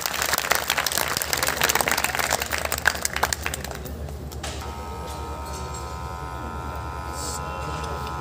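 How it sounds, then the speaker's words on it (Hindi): Parents and students at a school results gathering break into dense applause for a few seconds; it then dies away, leaving a steady electrical hum in the hall. "मैं चाहता हूं कि यहाँ उपस्थित सभी अभिभावक, सभी छात्र छात्राएं एक बार इन बच्चों के लिए जरूर जो है ताली बजाएं।"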